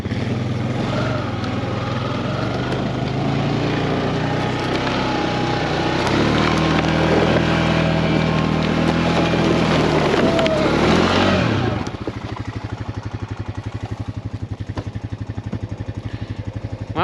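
A Honda 420 Rancher ATV engine runs steadily in a snowy wooded area while hauling logs, a loud continuous drone that drops to a lower, pulsing idle near the end.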